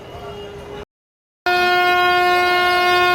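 An Indian Railways Magadh Express sounds its horn departing platform 2 of Kanpur Central station, two loud sustained tonal blasts separated by a short silence, the second longer and very close.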